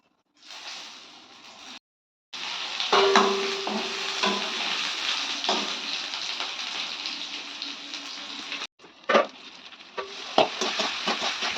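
Five-spice seeds, bay leaf and dried and green chillies sizzling in hot oil for a Bengali fish curry, a steady loud frying hiss with a few pops and spoon stirs, briefly cut off mid-way.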